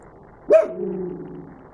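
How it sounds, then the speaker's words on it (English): A single sharp dog bark rings out close by, followed by a drawn-out whining tail that fades over about a second. "why don't you just tell your dog to stop barking?"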